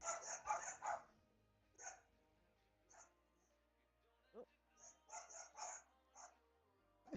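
A small dog barks and yips in short bursts, a quick cluster, then scattered single barks, then another cluster, fairly faint and close, during a live game stream with some talk nearby.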